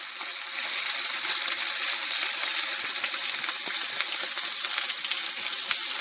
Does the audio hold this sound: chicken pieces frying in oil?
yes